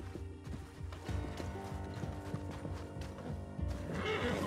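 A horse in the video game Red Dead Online whinnies while its hooves clip-clop steadily, fairly quiet, with game ambience layered underneath.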